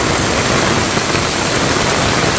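Heavy rain pours down in a village, a dense, loud, unbroken hiss of drops striking surfaces all around, with no voices.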